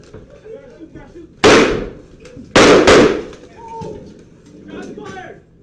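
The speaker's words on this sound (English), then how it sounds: "fired one shot from a semi-automatic pistol into the floor" Gunshots from a semi-automatic pistol fired indoors at a police station, two loud sharp bursts with ringing decay, the second a quick double crack, amid faint background voices.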